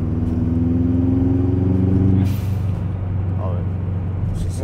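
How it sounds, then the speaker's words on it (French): A 1998 Subaru Impreza GT's turbocharged engine drones loudly from inside the car as the turbo spools up, a strong low hum that swells and then eases off, with faint voices underneath. "On entend le turbo qui commence."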